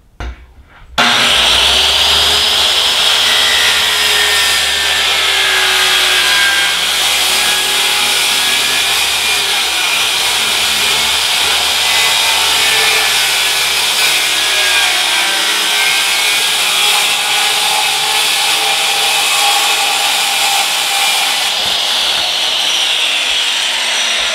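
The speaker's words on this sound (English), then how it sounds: "I'm gonna just cut this piece to size for the top" Saw cutting a 2 by 4 foot section of plywood to size in a workshop, a loud continuous close whine and rasp running steadily for over twenty seconds after a brief start, with no talk.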